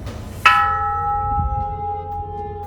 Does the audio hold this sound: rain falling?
no